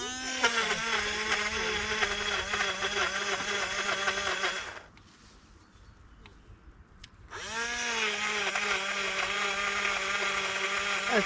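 An aging three-year-old blender whirs steadily as it mixes banana milk, a loud, close motor whine that stops for a couple of seconds, then starts again at full speed.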